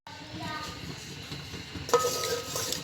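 Onions frying with cumin seeds in a pan, stirred with a utensil: a steady low sizzle under scraping and clinking against the metal, with a brighter burst of sizzle toward the end.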